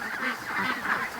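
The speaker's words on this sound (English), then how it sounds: "Okay, the Muscovies don't want to go in the pen." Muscovy ducks being herded near a creek pen at morning, giving soft hoarse honking calls in a continuous close stream with no talk.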